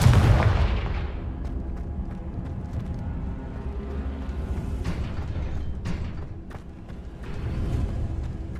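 Repeated Confringo explosive spell blasts from Hogwarts Legacy, booming bursts at close range over a dense, continuous rumble of game action with no talk.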